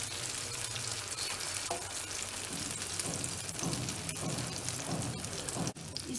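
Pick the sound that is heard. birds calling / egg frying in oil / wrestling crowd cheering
egg frying in oil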